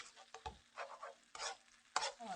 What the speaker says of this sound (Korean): 이제 국물이 없을 때까지 볶아주세요.